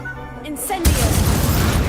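An Incendio fire spell blast in Hogwarts Legacy erupts suddenly as a broad, roaring burst that sustains loudly after a brief quieter lead-in.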